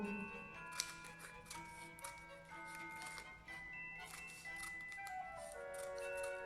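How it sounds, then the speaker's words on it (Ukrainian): Scissors snip through a folded strip of paper in a straight line during a children's Christmas-tree craft, producing soft, repeated cuts over faint background music. "Тепер беремо ножиці і починаємо різати по прямій."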